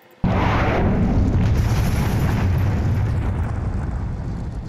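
An ICBM missile in the Minecraft video game fires and explodes with a sudden loud boom, followed by a sustained roaring rumble that slowly fades over several seconds.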